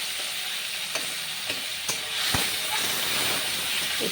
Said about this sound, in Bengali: একটু হালকা নেড়ে চেড়ে নিচ্ছি।